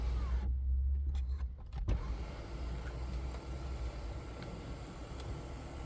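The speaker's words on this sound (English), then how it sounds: "So that's the roller sun blind." Motorized roller sun blind on the panoramic sunroof of a 2023 Mercedes-Benz A200 hatchback, a steady electric motor whirr running close by inside the cabin over low road rumble, with a brief mechanical stop near the start.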